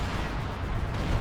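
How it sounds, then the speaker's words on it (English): Pyrotechnic explosions boom in Company of Heroes 2 during a battle near a collapsed house, a dense, rumbling wall of blasts and crackling fire that rolls on continuously without pause. "Pyrotechnic explosions."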